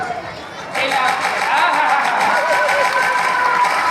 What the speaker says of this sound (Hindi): जोर से जय बोला करो सभी, ताली बजाओ